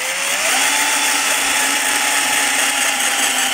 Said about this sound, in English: I'm gonna drill the third hole now.